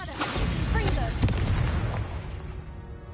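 A Bombarda blasting spell bursts in Hogwarts Legacy, a loud, booming explosive blast with a sharp crack near the middle, set amid other spellcasting and combat noise while voices speak.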